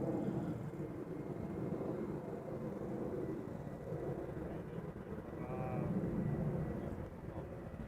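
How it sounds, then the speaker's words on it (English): Embraer jet landing at Amsterdam Schiphol Airport, a steady, fairly distant engine roar and rumble that swells slightly toward the end, heard alone without talk. "we have another Embraer coming in to land"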